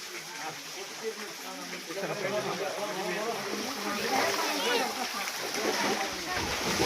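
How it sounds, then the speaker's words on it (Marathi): Water drips and splashes onto a stone Shiva linga at the Ramling shrine, a busy wet spattering close by, with people talking over it. "या पाण्यातून थेंब बघा या पिंडीवर पडतात"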